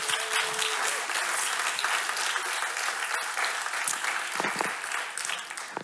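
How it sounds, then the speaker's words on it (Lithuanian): An audience at the opening of a national culture forum in Lithuania claps in a dense, steady round of applause that fades slightly toward the end. "tas neseniai pakeltas rankas panaudokim plojimams"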